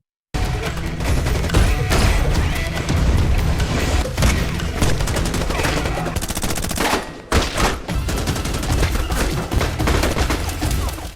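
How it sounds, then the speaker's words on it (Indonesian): A loud, chaotic gunfight scene from an action film, with dense bursts of rapid gunfire and booming blasts, continuing almost without pause for several seconds. "Akhirnya, baku tembak antara kedua pihak pun dimulai."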